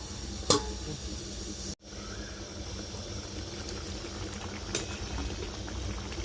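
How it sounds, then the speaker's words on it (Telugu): Brinjal and tomato curry simmers in a pot over a low flame, giving a steady soft bubbling with a couple of brief louder clicks, heard alone. "ఇది మూగలాడుతుంది వంకాయ కూర అయితే"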